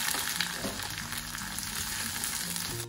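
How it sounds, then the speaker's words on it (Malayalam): Crushed green chilli, ginger, garlic and shallots frying in a pan of oil, giving a dense, continuous close sizzle with light stirring over a short stretch. "ഈ ചതച്ച് വെച്ച പച്ചമുളക്, ഇഞ്ചി, വെളുത്തുള്ളി, ചുവന്നുള്ളി എല്ലാം കൂടെ ഇതിലേക്ക് ഇട്ട് കൊടുക്കാം."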